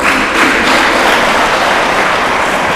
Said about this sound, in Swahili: mpigie makofi